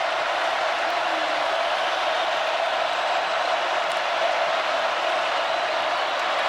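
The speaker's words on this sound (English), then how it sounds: "The noise is an issue from the crowd at Tiger Stadium" Continuous crowd din at Tiger Stadium during an LSU home football game against Auburn, an even, unbroken roar of many voices from across the stands with no speech on top.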